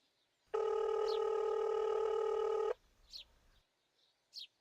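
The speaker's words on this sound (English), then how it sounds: "Stuart decided to phone Jimmy, the minibus driver." A telephone rings with one sustained electronic ring of about two seconds that cuts off sharply, followed by faint high chirps, likely birds, in an otherwise quiet setting.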